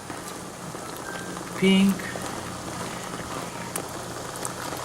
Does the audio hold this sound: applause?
no